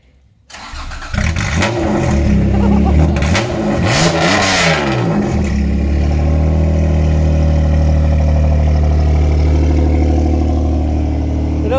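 A Honda NSX with a newly fitted exhaust starts up after a brief silence, with a loud close crank and catch, a few sharp revs, then a steady rumbling idle.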